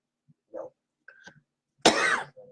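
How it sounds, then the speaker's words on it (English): Someone with a stubborn lingering cough lets out a few small throat sounds, then one sharp close cough and a faint trailing murmur, quiet in a still room. "That's my wonderful cough. I can't seem to get rid of."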